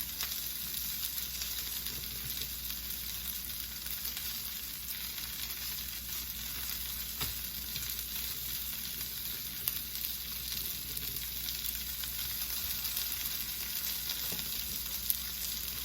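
Coconut shrimp fry in a pan with a continuous, even sizzle and hiss lasting throughout, close and moderately loud, with a couple of faint clicks and no voices.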